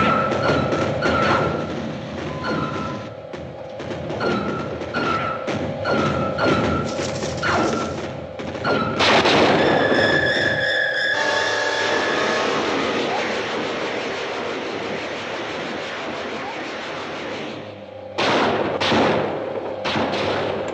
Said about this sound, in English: The artillery doesn't penetrate.